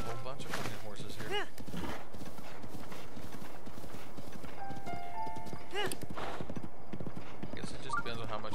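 Hooves clip-clopping as several horses walk in Zelda: Breath of the Wild, with a whinny and game chimes over the steady hoofbeats while someone talks.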